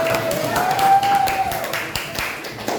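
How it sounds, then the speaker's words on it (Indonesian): A group of students in a classroom claps briefly in quick, uneven rhythm, mixed with a sustained tone and some background voices. "Boleh tepuk tangan untuk juara kelompoknya"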